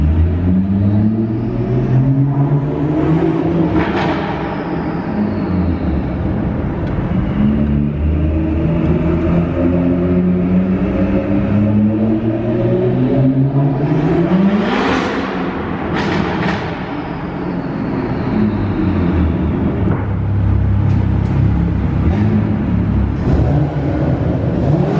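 A BMW F30 335i revs hard with a rising, sweeping whine over its engine roar, pitch climbing and falling through repeated pulls, loud and close without talk.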